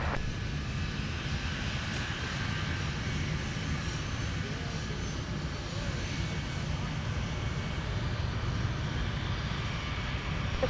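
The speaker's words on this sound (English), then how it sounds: "here's our ever-popular 757-300 heading down to the usual suspected cities" A Boeing 757-300 airliner at Minneapolis–Saint Paul airport, its engines producing a steady, distant broadband roar that stays even throughout, with faint voices in the background.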